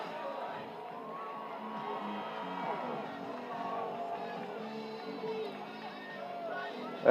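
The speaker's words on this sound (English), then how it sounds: "Blue Valley also brought a nice crowd here today." Steady murmur of a crowd at a high school Friday night football game, broad and distant babble with faint cheering, continuous throughout and a bit louder right at the end.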